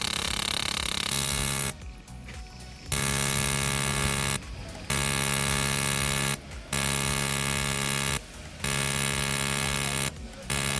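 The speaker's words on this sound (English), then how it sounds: "we're going to cycle our throttle cleaner directly through the injector tester under high pressure to blast out" A fuel injector tester pushing throttle cleaner through an injector under high pressure, with a loud, steady, buzzing electric whine that cuts out in regular short pauses, cycling on and off.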